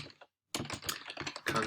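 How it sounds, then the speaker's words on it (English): Rapid keystrokes on a computer keyboard as a sentence is typed, a brief burst, then a pause, then a dense run of clicks close up. "I'm going to type a sentence"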